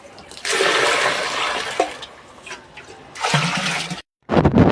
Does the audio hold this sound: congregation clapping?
no